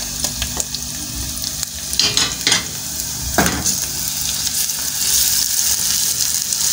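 Garlic frying in a pan for a spiced tomato and onion sauce with beef cubes and garam masala, a steady close sizzle with a few stirring scrapes and clinks partway through.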